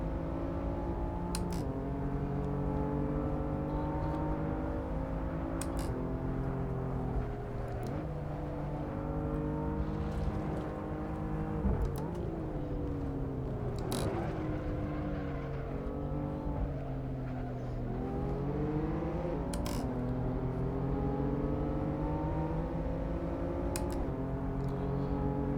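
BMW M4 race car in Assetto Corsa at the Mosport circuit, its engine droning loud and steady throughout with pitch rising and falling through gear changes, upshifts and revving down the straights.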